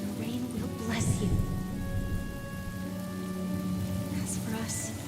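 Steady rain falls with low rumbling thunder in a Honkai: Star Rail story scene. Soft tonal music plays underneath, and the rain stays even and moderately quiet across the whole stretch.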